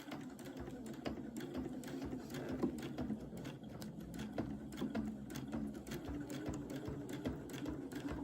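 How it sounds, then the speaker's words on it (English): Sewing machine stitching circles on a bucket hat, a quiet, steady rapid needle clatter running continuously up close with no talk. "I am going to sew circles"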